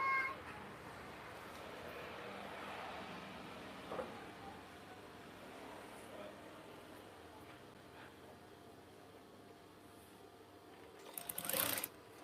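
A sewing machine stitches a craft curtain in a steady, faint whir that runs throughout, with a short louder burst near the end.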